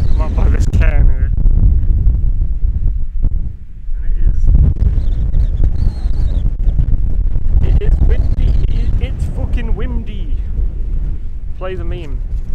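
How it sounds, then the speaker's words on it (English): Strong wind buffets a microphone outdoors beside a hilltop cairn, loud low rumbling gusts running throughout while a person talks over it. "It's fucking windy out here."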